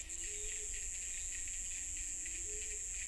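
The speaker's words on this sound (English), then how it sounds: "The cicadas are in song." Cicadas sing high in the trees of a Madagascar jungle, a steady piercing drone that holds on without pause, with faint chirps from other creatures in the background.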